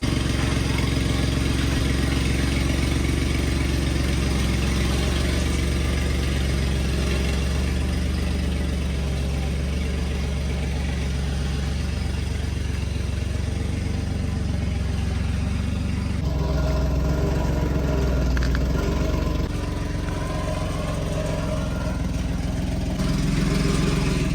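A 2003 Chevy HD truck with a new off-road wheel setup runs its engine steadily as it pulls out in the woods, a loud continuous low rumble close by for the whole stretch.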